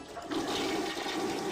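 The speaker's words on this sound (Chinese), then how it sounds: "马桶的声音是吧？" A toilet flushes in a bathroom, a close, steady rush of water that swells quickly and keeps going without pause.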